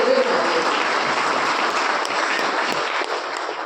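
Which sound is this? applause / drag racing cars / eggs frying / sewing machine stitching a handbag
applause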